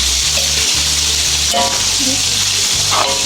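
Chop suey stir-frying in a pan, a loud continuous sizzle close by with rhythmic scraping and clanking of the stirring utensil against the pan.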